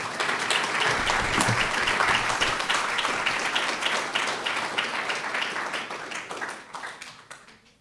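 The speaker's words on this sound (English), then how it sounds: "give him a really warm round of applause" Applause from an audience welcoming a first-time panel speaker at a talk on austerity, with dense steady clapping that swells early and then gradually tapers off over several seconds.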